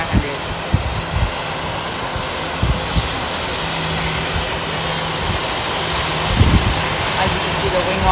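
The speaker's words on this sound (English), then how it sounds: "The Delta 737-900." Steady jet engine roar from a Delta Boeing 737-900 airliner at an airport gate, a broad constant rumble with wind-like hiss, heard from a distance with occasional thumps and a person talking over it.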